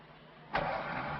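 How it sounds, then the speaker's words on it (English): A car engine is started with the starter in an old comedy film. A sudden loud burst of engine noise follows a quiet moment and settles into a steady running roar. "Now your engine's running, you can put your hand up."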